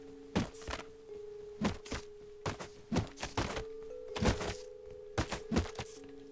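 Crossbow shots and other thuds in the video game Rust, a series of short dull thunks in irregular bursts over a faint steady hum, moderately loud and close, no voices.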